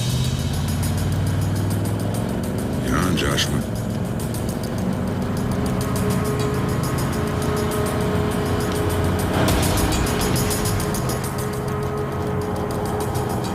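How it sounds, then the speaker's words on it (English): A car's engine hum rises as it approaches and passes, a steady drone with a brief louder sweep partway through, a short spoken line heard over it. "There's a car coming."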